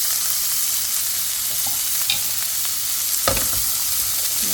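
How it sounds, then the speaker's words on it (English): Onions and beans sizzle and fry in oil in a pan for tortilla fillings, a steady close crackle with occasional scraping stirs and a sharper clatter partway through, no voices. "now that our onions are getting a little translucent and sort of frying up a bit, I'm gonna throw in the beans."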